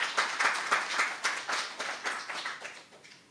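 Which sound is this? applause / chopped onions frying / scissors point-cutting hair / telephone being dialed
applause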